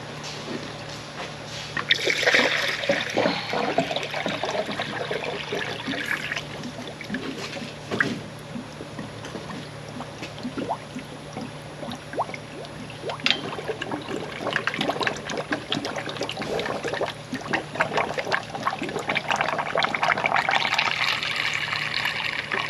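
Water trickles and splashes steadily for a long stretch as it is poured into a car's cooling system after a coolant loss, a close, continuous pouring sound with small gurgles and no voices.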